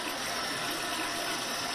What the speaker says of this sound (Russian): Вода бежит и в уборной, и на кухне.